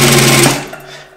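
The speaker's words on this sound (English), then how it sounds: "as you press the foot pedal, just as with any sewing machine, you'll go faster and faster." A brief burst of rapid mechanical stitching from a Singer 241-2 industrial sewing machine with a servo motor, loud and close, its fast rattle slowing and fading out within a second.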